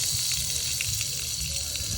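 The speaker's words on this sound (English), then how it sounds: "you're going to depressurize the house by just opening a hose bib" Water runs from an opened outdoor hose bib on a two-story house, a continuous hissing gush that stays steady and fairly loud throughout.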